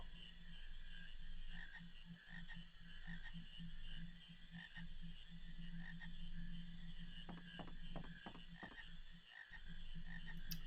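A frog croaks in Final Fantasy 9, a steady, faint, buzzing call that repeats over a constant ambient hum, with a quick cluster of clicks near the end.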